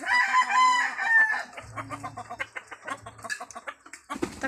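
A fighting rooster crows loudly at close range, followed by a series of short, quick clucks from nearby chickens.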